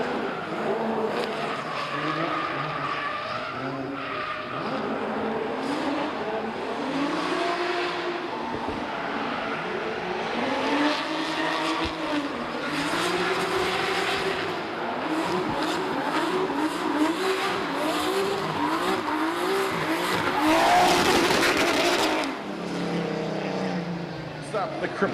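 Drift car running on track during a D1NZ pro championship qualifying event in Tauranga, with a continuous revving engine roar and tire squeal throughout, rising to a louder burst near the end, under a steady commentator's voice.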